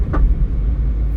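A 2016 Chevrolet Spark with a manual transmission drives with a loud, close, low engine and road rumble in a brief stretch, and a small bump early on.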